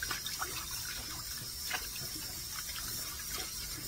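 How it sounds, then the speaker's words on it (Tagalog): Meat for adobo rinsed under a running tap, a faint, steady hiss of flowing water with soft splashes and light handling noises throughout. "Hugasan ko muna siya mabuti bago ko siya hiwain"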